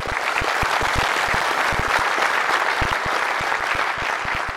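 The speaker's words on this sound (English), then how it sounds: "Can we have a round of applause for Madhu?" An audience at a Docker networking tech talk claps for the speaker: steady, dense applause from a room full of people, even in loudness throughout with no talk over it.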